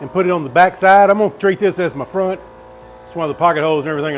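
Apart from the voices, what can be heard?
No distinct noise like a dog, phone or traffic.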